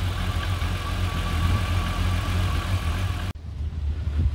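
A VR6 turbo car engine idles loudly and steadily with a low, even rumble, cutting out abruptly near the end before the rumble resumes.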